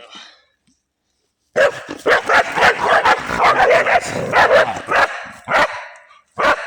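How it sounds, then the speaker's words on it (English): Several herding dogs bark loudly and rapidly at passing bike riders on a hiking trail, a dense run of overlapping barks and yips after a brief quiet start, close and continuous with short pauses. "My dogs think they need to herd everything with wheels."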